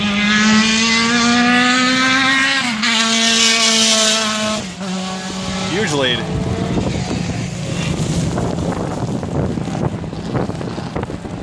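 Racing cars in an SCCA Group 4 race at the 2016 Blackhawk Majors roar loudly and continuously, the engine note climbing and dropping through gear changes under heavy wind buffeting.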